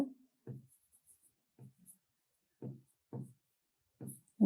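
Pen strokes on paper during a maths lesson on algebraic expressions, a series of short, soft scratching bursts spaced irregularly, close and quiet with no talk over them.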